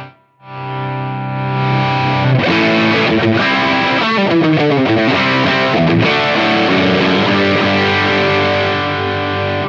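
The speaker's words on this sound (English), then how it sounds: "I can use it as a flat out distortion box" An electric guitar through an analog overdrive/distortion pedal plays sustained, heavily overdriven chords and riffs, thick and saturated, loud and close with no talking.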